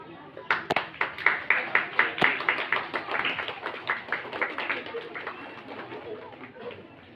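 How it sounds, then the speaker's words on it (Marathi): Rhythmic audience clapping at a school Republic Day program, a steady run of evenly spaced claps that builds quickly, holds a regular beat, then loosens and fades toward the end. "सर्वांनी टाळ्या वाजवायचे"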